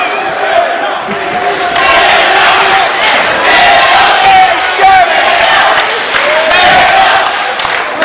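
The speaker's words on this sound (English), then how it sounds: "And the crowd is loving this" A wrestling event crowd roars and yells throughout, a loud, continuous mass of cheering voices with shouted bursts rising and falling over the full stretch.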